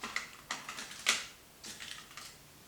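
A cookie cutter pressing through rolled dough for white chocolate and ruby heart cookies gives a few soft, separate tapping clicks and light scrapes, close by and with no voices.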